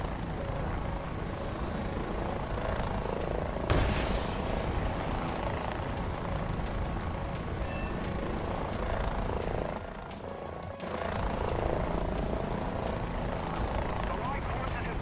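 A helicopter engine drones in the War Thunder video game, a continuous rotor and turbine whir held steady at moderate level with a brief dip, and someone talks over it.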